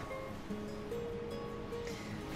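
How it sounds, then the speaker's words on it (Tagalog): Flowing water of the Puyao River at a camping spot, a soft, steady rush heard from nearby, with faint tonal hums and brief bird-like notes over it. "Kaya lagaslas ng tubig lang ang ating naririnig."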